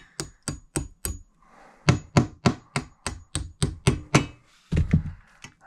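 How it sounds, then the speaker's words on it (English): Plastic wall plugs tapped into a wall with a hammer while installing radiator brackets: a long series of sharp, close knocks in quick clusters, about sixteen strikes with short pauses between groups. "I like to tap the plugs into the wall"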